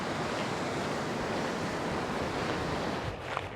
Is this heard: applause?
no